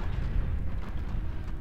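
Unit cannons firing in the strategy video game Planetary Annihilation Titans, a continuous rumbling barrage of low booms and blasts that rolls on loudly without a break.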